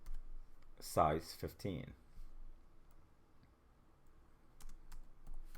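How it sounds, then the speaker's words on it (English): Someone types on a computer keyboard, with faint, sparse key clicks near the end after a short spoken phrase, quiet and close. "let's type employee ID, which is emp ID"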